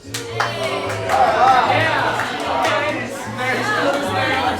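A live improv comedy theater audience applauds and cheers loudly and steadily for several seconds, a dense wash of clapping with whoops and hollers rising above it.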